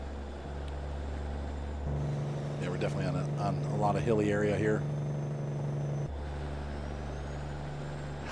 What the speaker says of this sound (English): This truck sounds so good.